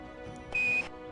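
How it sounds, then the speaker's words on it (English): Quindar tone, the NASA radio beep: a single steady pure tone of about a quarter second, loud and clean, standing alone over a quiet background. "The sound you're hearing is called a Quindar tone, or it's more commonly referred to as a NASA beep."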